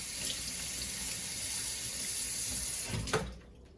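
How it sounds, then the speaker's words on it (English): Kitchen tap running steadily into a sink as a hand is rinsed during cookie baking, a close hiss of water that stops abruptly near the end. "Let me rinse my hand."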